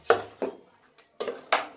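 Four short scraping, clinking strokes of a utensil against a cooking pot, spaced irregularly with quiet gaps between them, no speech.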